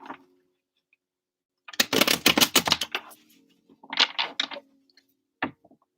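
Tarot cards are shuffled by hand in two short riffling bursts of crisp, rapid flutters, with a soft tap after them, close and quiet in an otherwise silent room.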